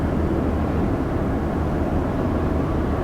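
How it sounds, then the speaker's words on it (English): A 2019 Toyota Land Cruiser SUV with a 380-horsepower engine pulling away from a start, giving a steady, loud, broadband engine and road rumble with no voices. "so first taking off in the 2019 Land Cruiser."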